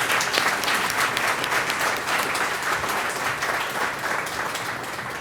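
A hall-of-fame ceremony audience at a college athletics event claps in sustained, dense applause that fills the room evenly throughout and fades only slightly toward the end.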